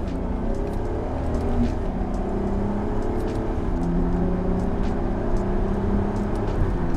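An AWD car in sport mode accelerates hard, its engine note climbing through several gear steps in a steady, moderately loud drone heard from inside the cabin, with no talking.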